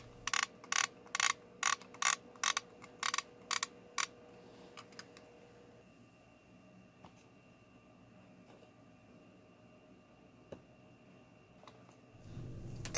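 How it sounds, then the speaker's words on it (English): A Singer buttonholer sewing machine attachment (Simanco 160506) is adjusted by a top knob that moves its cloth clamp. It opens with a quick run of about ten sharp, evenly spaced ratcheting clicks, then settles into quiet mechanical ticking and a low thump at the end. "You can see that the adjustment knob at the top moves the cloth clamp."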